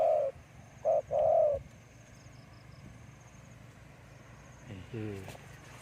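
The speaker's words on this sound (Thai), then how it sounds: "นี่ครับนกตัวเมียนะครับ" A female dove, a large wild dove being tracked outdoors, gives a few short cooing notes early on, clear above a steady low rumble, followed by a faint rising call near the end.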